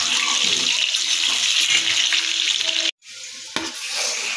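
Potatoes frying in a pan, a loud, continuous close sizzle with stirring scrapes, cut by a sudden brief drop, then resuming with a sharp knock.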